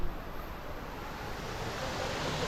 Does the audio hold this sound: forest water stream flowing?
yes